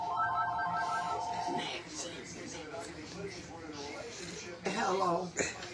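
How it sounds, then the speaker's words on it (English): A phone ringing with a repeated electronic ringtone pattern near the start, then cutting off as people talk, with clattering handling noises after. "She got to answer the phone."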